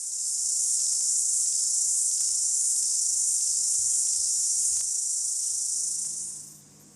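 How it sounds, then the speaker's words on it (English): Cicadas in New Zealand bush, a dense and constant high buzzing drone that stays loud and steady throughout, then thins out near the end. "The sound of cicada is now deafening"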